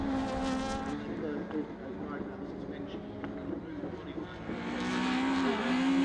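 Rallycross cars from the Super1600, BMW Mini and hot hatch classes race through a chicane, their engines revving and roaring close by with a brief tire squeal, while a commentator talks over the action.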